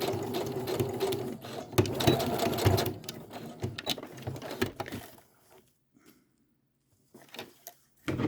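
Sewing machine stitching a boxy zipper bag, running in rapid bursts of mechanical whirring and clatter for several seconds, then stopping, with a few brief handling noises afterward.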